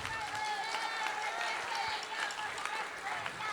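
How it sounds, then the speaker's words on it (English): A middle school concert audience claps for the bucket drummers, a sustained wash of applause with a few voices and whoops mixed in. "Would you give our bucket drummers over here a round of applause?"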